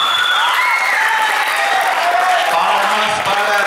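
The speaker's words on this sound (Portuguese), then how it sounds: "Então palmas para Lara, primeira candidata." Circus audience applause for a contestant at a small-town ugliest-man competition, dense continuous clapping throughout, loud and close, with crowd voices mixed in.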